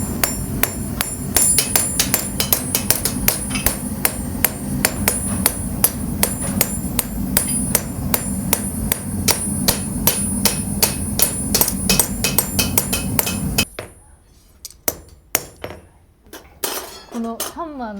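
Rapid metallic hammer strikes ring out as a blacksmith hand-hammers texture into a blade, in a steady, dense rhythm for several seconds, then slow to a few sparser taps, with a voice briefly speaking.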